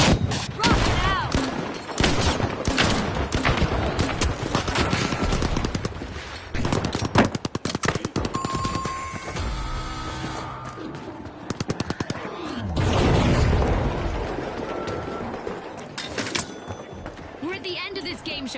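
Rocket launches and explosions from a game show match in the video game The Finals, loud dense bursts and rapid gunfire throughout, with a voice talking over the action.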